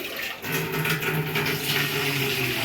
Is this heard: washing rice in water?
yes